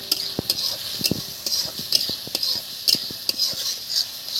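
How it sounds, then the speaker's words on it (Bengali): A spoon scrapes and knocks against a pan in a steady rhythm as chitol fish curry is stirred, with a soft sizzle beneath the repeated clinks. "এটাকে ভালো করে একটু নেড়ে চেড়ে নেবো।"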